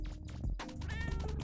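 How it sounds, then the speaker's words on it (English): A cat meows in the Explorations With Archer video game, one loud, close call over a steady game background, with no talking during the sound. "Hello, Elder Cat. I have brought you a sacrifice of fish."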